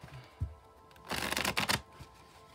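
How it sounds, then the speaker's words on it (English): Tarot cards being shuffled by hand, a dense papery riffling burst lasting under a second after a couple of soft taps, heard close and alone in a quiet room. "I'll shuffle until it feels ready, and then we'll cut and deal right off the top"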